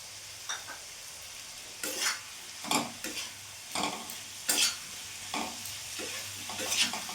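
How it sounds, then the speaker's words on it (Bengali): Chicken mince with chopped tomato and spices is sautéed and stirred in a pan, giving a steady low sizzle broken by repeated scraping strokes of a spatula, close and moderately loud, with no talking. "কিছুক্ষণ ধরে ভালো করে আমি কষিয়ে নেব।"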